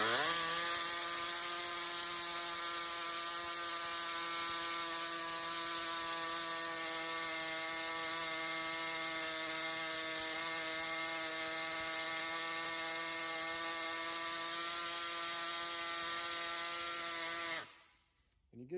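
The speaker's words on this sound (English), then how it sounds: "I'm just gonna use an air saw to do this" An air saw cuts an AN6 hose with a loud, continuous high-pitched whine that holds steady until it stops abruptly near the end, with no talk.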